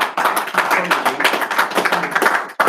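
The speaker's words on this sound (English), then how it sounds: "Be clapping for admin" Audience clapping steadily in a live show setting, a dense, continuous patter of many hands for a couple of seconds before briefly cutting off and resuming, with some voices mixed in.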